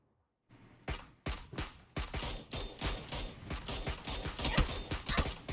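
Rapid gunfire crackles during a competitive esports match in a video game, with a dense sequence of sharp, fairly quiet shots arriving in irregular bursts and overlapping echoes.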